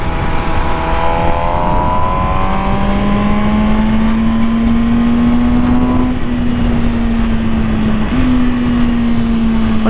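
A 2020 MV Agusta Brutale 1000RR motorcycle engine revving while riding, loud and close, with rising tones climbing through gears and a sustained high-pitched drone, plus a quick throttle blip near the end.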